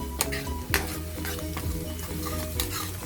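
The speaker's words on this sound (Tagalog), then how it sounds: "Yan, igigisa na natin." Chicken afritada ingredients sautéing in a pot, with a loud, steady sizzle and the clatter of stirring against the pot, close by and without talk.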